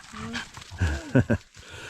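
A fisherman's dog on a forest outing gives a few short, close barks and whimpers, a couple of sharp yelps near the middle, mixed with soft human voices.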